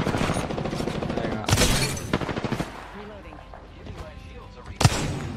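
Rapid video game gunfire rattles in quick bursts with a couple of sharper, louder shots, fairly quiet overall, with people talking alongside.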